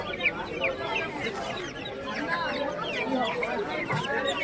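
Chickens cluck and squawk in a dense, overlapping chatter at the Galiff Street pet market in Kolkata, close by and continuous, with market voices talking underneath.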